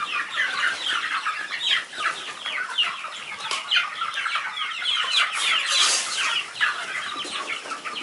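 A flock of chickens clucks and chatters busily while feed is thrown to them through the top of their enclosure, a dense continuous stream of overlapping calls with no talking.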